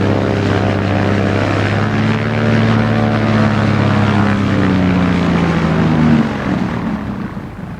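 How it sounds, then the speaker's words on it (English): A Cessna 180 single-engine propeller plane drones loud and steady with a strong buzzing engine tone, then the pitch drops near the end as it passes or throttles back. "Bishop Leo Arkfeld travels his diocese of Wewak in a Cessna 180"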